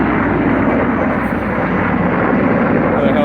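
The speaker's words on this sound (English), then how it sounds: "Another helicopter filled up with water." A firefighting helicopter carrying water over a forest fire in Yucaipa and Oak Glen drones overhead as a steady, loud rotor and engine roar, with some wind buffeting and no pause across the whole stretch.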